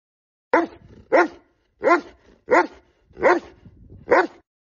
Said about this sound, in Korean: 뒷문을 향해 달려가며 격렬하게 짖었어요